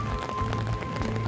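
Steady rain falls on a rainy morning at Disney Springs, a constant close hiss of drops hitting surfaces with faint patters scattered through it and no voices.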